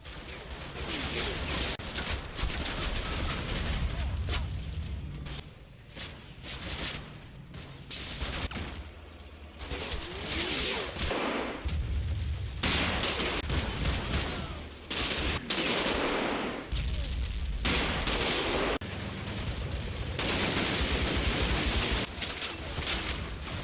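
Sustained small-arms and machine-gun fire in the World War II game Combat Mission Fortress Italy, as sections lay down supporting fire during an assault on buildings, dense overlapping bursts with brief lulls, loud and continuous.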